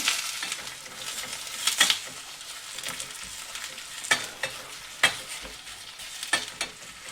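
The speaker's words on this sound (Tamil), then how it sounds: "ஒரு பாதி பெரிய வெங்காயம் வெட்டி வச்சுருக்கிறேன் இதையும் சேர்த்து வதக்கி எடுப்போம்" Onion, mustard seeds and cumin fry in a pan for a Sri Lankan cashew curry, a steady close sizzle broken by several sharp stirring scrapes and spatters, with no voices.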